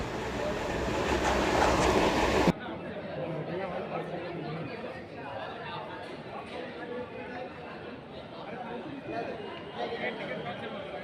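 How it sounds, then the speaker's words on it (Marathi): A new pink Navi Mumbai Metro train rumbles and clatters at Belapur station, a steady rolling rail noise under continuous crowd chatter, with a brief louder burst at the start. "आणि ही बघा मेट्रो, पिंक कलरची नवी मुंबई मेट्रो, एकदम नवीन नवीन."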